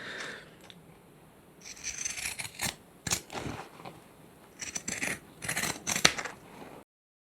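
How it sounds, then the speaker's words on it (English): Pinking shears trimming fabric seams on a sewn bag organiser, giving faint crunchy snips and scrapes in irregular bursts, close and quiet, with no voices. "The next thing I'm going to do is pinking shears to trim down the seams."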